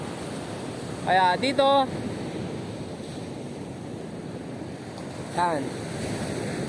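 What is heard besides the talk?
rough sea waves on the shore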